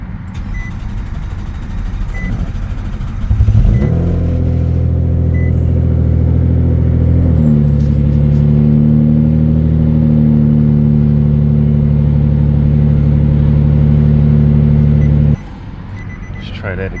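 A car engine, freshly fitted with a cleaned red cold air intake filter, cranks and catches almost instantly, then runs with a loud, steady low rumble for about twelve seconds before shutting off.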